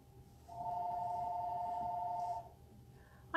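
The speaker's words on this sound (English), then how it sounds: "of course the phone rings." A telephone rings indoors with one long, steady electronic tone lasting nearly two seconds. The start of a second ring cuts in at the very end, and no one speaks.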